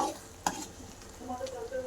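Masala frying in oil for a village-style chicken rassa is stirred in the pan. It gives a soft, faint sizzle, with one sharp scrape of the spoon and quieter scraping afterward.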